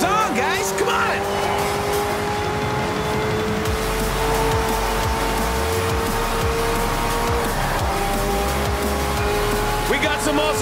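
Race cars in Forza Horizon 4 rev and surge with sharp tire squeals and skids, the engine drone rising and dropping as they pass. A voice talks over the steady, loud motor noise.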